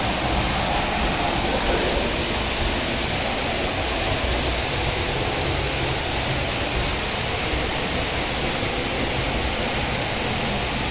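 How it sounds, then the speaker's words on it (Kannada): Waterfall at Varavi Siddeshwara Kolla near Savadatti, beside a temple, roaring as a steady, dense wash of falling water that fills the whole clip without pause. "ಇಲ್ಲಿ ನೋಡ್ಬೋದು ಜಲಪಾತ ಬೀಳುತ್ತಿದೆ"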